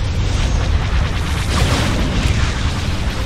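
Ion cannon firing in the space battle game Star Wars Empire at War, heard as a sustained, heavy, rumbling boom that fills the whole moment at steady loudness.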